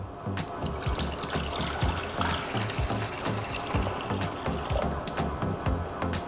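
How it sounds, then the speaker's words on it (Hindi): Water from a glass poured into a saucepan, a steady trickling pour with small splashes lasting several seconds, fairly close and alone without talk. "इसके अंदर डालेंगे हम 1 गिलास पानी,"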